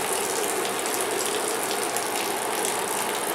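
Water from a newly installed rain gutter spills and splatters steadily during rain, a dense continuous wash of splashing with no pauses and no voices.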